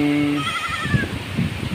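Goats bleating while grazing in strong typhoon winds, a few drawn-out wavering bleats near the start over a steady rush of gusting wind and low rumble.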